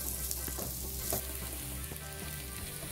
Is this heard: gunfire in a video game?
no